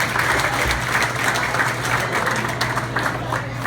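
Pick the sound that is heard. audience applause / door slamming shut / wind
audience applause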